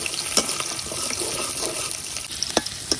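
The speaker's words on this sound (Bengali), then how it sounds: "এখন এই রসুনের কোয়া গুলো হালকা একটু বাজিয়ে নিলাম।" Large whole garlic cloves fry with onion in a pan, giving a steady close crackling sizzle broken by a few soft clicks and scrapes of stirring.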